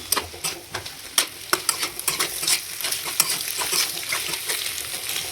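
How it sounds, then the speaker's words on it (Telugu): Chopped ingredients are stirred and scraped in a hot pan over high flame, sizzling steadily with irregular clacks of the spoon against the metal, close up and without speech. "ఇలా ఇలా ముక్కలుగా చేసిన తర్వాత మొత్తం ఒకసారి కలిసేలా కలుపుకుందాం"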